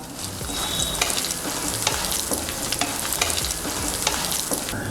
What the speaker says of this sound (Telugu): 1 టేబుల్ స్పూన్ మినప్పప్పు, 1 టేబుల్ స్పూన్ కందిపప్పు వేసుకొని ఫ్రై చేసుకుందాము.